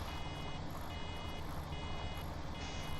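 A baler's full-capacity warning alarm from Farming Simulator 17 beeps steadily over a constant low engine drone, each pulsed tone repeating at an even rhythm throughout the three seconds.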